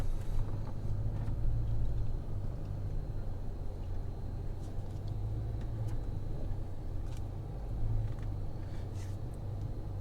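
Truck crawling up an off-road trail, a low steady engine rumble with a faint hum, moderately quiet and continuous, no voices.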